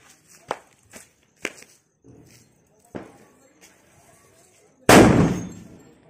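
Diwali firecrackers burst in a village: a few sharp, scattered pops come first, then one loud, close blast that rings out and slowly fades.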